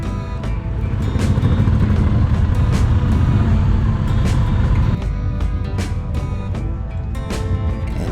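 Several Moto Guzzi motorcycles roll into a car park at a motorcycle show, a steady loud mix of engine rumble and exhaust with sharp revving bursts throughout, no voices.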